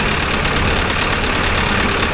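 A Mahindra Arjun Novo 605 tractor engine runs nearby, a loud, steady diesel rumble that keeps an even, unbroken drone throughout.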